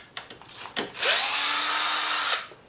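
A few clicks and taps lead into a cordless power tool whirring steadily for over a second as it backs out 8 mm hex head screws on a 2021-2023 Yamaha MT-07 motorcycle fender, close and fairly loud.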